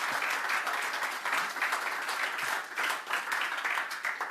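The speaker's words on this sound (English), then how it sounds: "If you want to clap, I would appreciate it," Conference audience applauding after a talk on building a custom Microsoft Graph connector with PowerShell, a dense, steady wash of many hands clapping at a moderate distance for several seconds.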